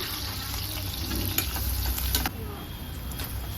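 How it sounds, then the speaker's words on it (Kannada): Onions sizzling in hot oil for a Mandya-style sprouted-bean sambar, a close and steady frying hiss with a few stirring scrapes, swelling briefly in the middle. "ಆಯಿಲ್ ಬಿಸಿ ಆದಕ್ಕೆ ಈರುಳ್ಳಿ ಹಾಕ್ಕೊಳ್ಳೋಣ ಈರುಳ್ಳಿ ಚೆನ್ನಾಗಿ ಫ್ರೈ ಆಗಬೇಕು"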